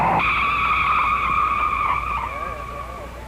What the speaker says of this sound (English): He takes the flag, and the wheels begin to spin.